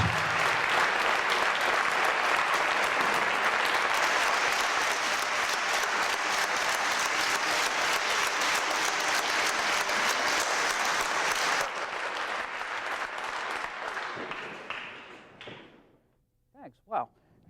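A lecture-hall audience at a creation versus evolution debate gives long, dense applause for about twelve seconds. It then tapers off, and a few thumps and a voice come in at the end.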